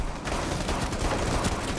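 Rapid pistol fire from a GSh-18 handgun in the shooter game Rainbow Six Siege, a dense burst of loud, overlapping shots continuing steadily throughout.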